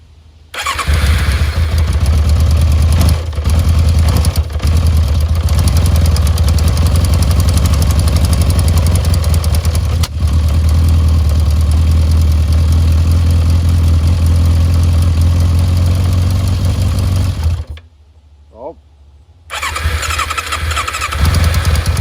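An old, neglected motorcycle, freshly filled with fuel, starts and runs with a loud, steady, close-up engine drone for many seconds. The engine then cuts out briefly before firing again.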